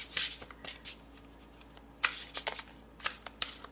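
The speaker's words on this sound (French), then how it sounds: "je vais aller chercher une carte conseil avec les 4 accords Toltec" Tarot or oracle cards shuffled and drawn by hand, crisp riffling bursts and soft slaps coming in irregular clusters, close and fairly quiet with no talking.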